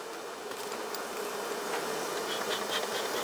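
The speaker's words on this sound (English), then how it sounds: "Trying to get those last bees to go down that end." Honeybees buzzing around an open beehive as the last of them are coaxed along: a dense, steady swarm hum, close and continuous, with individual bees droning past.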